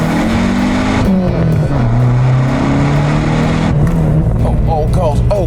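A rare American car's engine, fed by a four-barrel carburetor, rumbles deeply and shifts pitch as it revs and settles, with voices talking over it.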